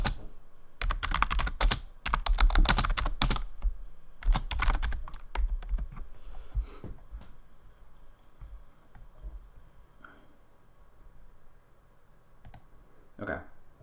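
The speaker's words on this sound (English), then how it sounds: "Just typing in Discord right now." Typing on a computer keyboard while chatting in Discord, with dense bursts of rapid clicky keystrokes that thin out into sparse taps, heard close.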